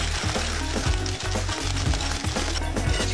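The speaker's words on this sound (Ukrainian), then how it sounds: "Добавляю сюди чашку цукру і все збиваю до однорідної консистенції" Egg and sugar being whisked to a smooth mixture for a pumpkin casserole, a steady dense scraping and swishing with a regular stroke rhythm, close and loud with no talking.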